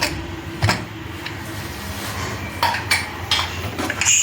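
Metal clatter of a pressure cooker being opened and checked after cooking North Karnataka-style sprouted green gram, with a few sharp clanks and scrapes over a steady kitchen hum; no talking.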